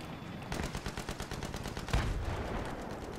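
Gunfire in a video game, a fast rattling burst of rapid shots followed by a heavier blast that carries on as dense, loud firing.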